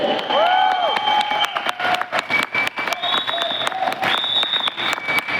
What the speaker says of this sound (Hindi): तो फीकी ताली होनी चाहिए इनके लिए, जोरदार दोनों हाथ ऊपर करके।